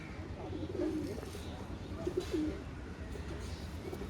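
Soft, low pigeon coos come in a couple of short bursts over a steady background hum, faint and somewhat distant.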